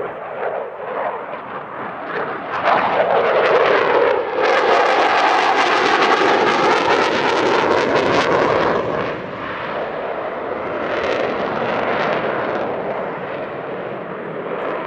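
A Dassault Rafale jet roars past with its twin reheated M88 turbofan engines, a loud sustained rumbling howl that swells, peaks with a sweeping tone and slowly fades.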